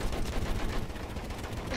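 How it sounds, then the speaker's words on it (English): Dense, continuous gunfire in the World War I shooter Battlefield 1, a loud, sustained barrage of overlapping shots and rattling automatic fire with no pause across the short stretch. "We're taking fire!"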